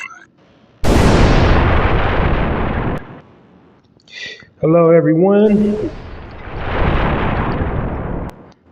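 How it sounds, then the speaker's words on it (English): Two loud, booming explosion sound effects roll out one after another in a podcast intro, each rumbling for a couple of seconds, with a short spoken greeting between them. "Ooh, got an extra explosion."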